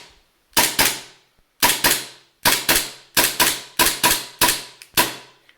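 A TTI Combat Master R601 JW3 gas blowback airsoft pistol fires BBs in sharp, loud, close snapping shots, two rapid pairs and singles spaced about a second apart, each crack with a short metallic ring.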